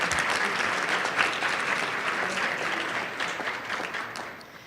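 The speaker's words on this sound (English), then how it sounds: "So a round of applause, please, for Caleb." Audience applause at an awards event, a dense, steady patter of many hands clapping close by, fading slightly toward the end.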